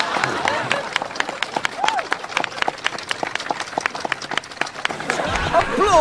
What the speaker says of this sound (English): Applaud sarcastically. No, that sounds too sincere. Slow clap.